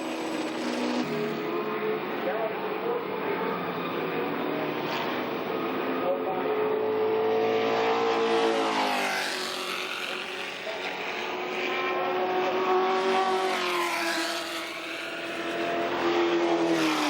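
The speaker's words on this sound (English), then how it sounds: "Time to see and listen to the GT40s in action in the double-driver endurance race." Ford GT40 race cars roaring past in a two-driver endurance race, engine notes rising and falling with Doppler sweeps as cars pass close, continuous loud motorsport din with an announcer talking over it.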